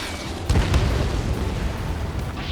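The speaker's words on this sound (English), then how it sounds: "Fire your next missile. Punch a giant hole in that enemy ship." A missile blast strikes an enemy ship in the Ace Combat 7 flight game: a heavy boom at about half a second, followed by a second thud and a sustained, roaring rumble of explosion and engine noise to the end.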